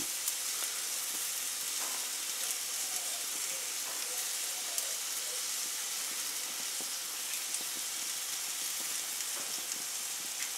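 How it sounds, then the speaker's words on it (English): Steady, crackling sizzle of meat and peppers frying in a hot pan, a continuous close hiss with small pops scattered throughout. "Our steak and peppers are sizzling away."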